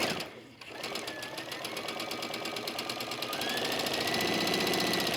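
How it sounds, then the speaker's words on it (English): A sewing machine stitches a quilt block seam along a seam guide, a fast rhythmic close-up chatter that starts after a brief pause and speeds into a steady, loud run. "I'm going to lower my foot. I've got the seam guide right along the line, and I'm going to start sewing."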